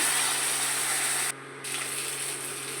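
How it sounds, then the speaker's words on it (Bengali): Spice-laden plate-rinsing water pours steadily into a cooking pan with a bright splashing hiss, briefly pausing midway before the pour resumes. "প্লেট ধোয়া জলটা দিয়ে দিলাম, যার মধ্যে মশলা ছিল।"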